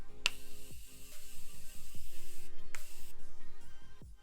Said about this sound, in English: Now I'm gonna do one last layer of the setting spray.